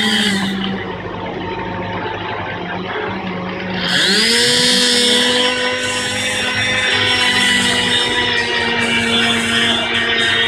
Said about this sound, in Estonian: kui Vesapürg alustab täpselt saagimist